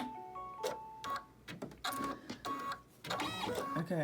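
An embroidery sewing machine sews a placement stitch for a ribbon on an in-the-hoop stocking, giving a close, steady run of rapid mechanical needle clatter with brief pauses.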